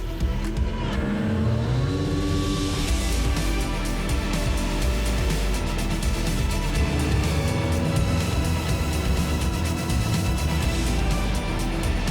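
A car with a 235 engine, out of use for about 15 years, idles loud and close with a steady rumble that rises slightly early on, and speech is faintly mixed in beneath the engine.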